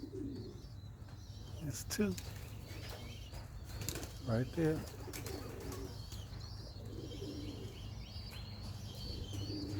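Racing pigeons near the loft, with soft low coos and bursts of wing flapping close by, while a person talks briefly over the outdoor background.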